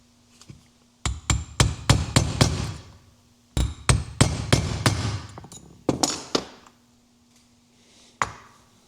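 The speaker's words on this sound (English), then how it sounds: "I'm just using a punch like this, and I got a piece of wood here. And we're just going to tap that old seal" Sharp metallic taps of a punch struck through a piece of wood, driving out the old oil seal of a Mercury outboard lower unit; two rapid bursts of about eight close blows each, then a few isolated strikes.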